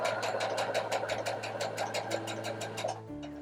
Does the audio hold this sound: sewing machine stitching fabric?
yes